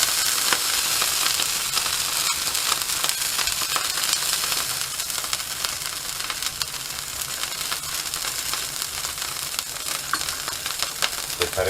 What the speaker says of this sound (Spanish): con el ajo, lo sofreímos un poquito